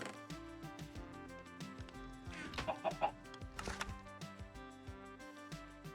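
Chickens clucking in Minecraft amid game music, a few short soft clucks sitting quietly in the mix.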